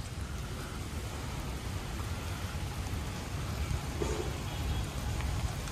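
Steady rain falls outdoors on the grassy grounds of St. Paul's Cathedral in Kolkata, a soft, even hiss of drops with no voices.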